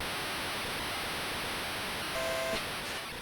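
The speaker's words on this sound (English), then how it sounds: "I love the white noise for the crowd" Crowd noise in the EA College Football video game comes through as a flat, steady white-noise hiss, constant and fairly quiet throughout with no voices.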